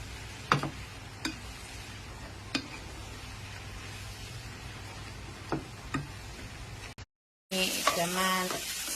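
Holy basil stir-fried with shrimp and squid in a pan gives a soft, steady sizzle punctuated by sharp spatula clinks at irregular intervals, then a brief drop-out followed by a louder, busier burst of frying.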